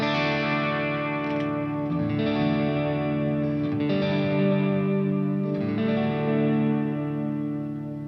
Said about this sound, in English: I'm going to add one more ambient type reverb